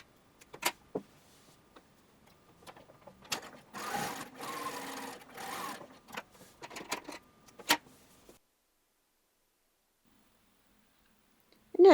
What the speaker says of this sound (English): machine just inside the seam allowance to secure